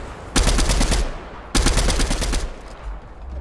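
Fortnite gunfire in a competitive match: two loud, sustained bursts of rapid automatic fire, about a second each, separated by a short pause, close and dominant with no talk.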